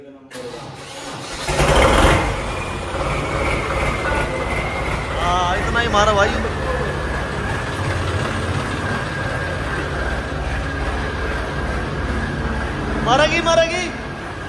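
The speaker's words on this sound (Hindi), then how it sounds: "एक बार ट्रैक्टर बाहर निकाल लेते हैं" A tractor engine runs in a farming video game set in a muddy, swampy field, with a steady loud rumbling drone and a brief revving burst, while people talk over it.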